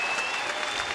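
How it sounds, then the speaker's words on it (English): A hockey crowd applauds at a UNH men's game against RPI, a dense, steady wash of clapping filling the arena, with a faint high tone running through it. "The crowd responding, showing approval of this"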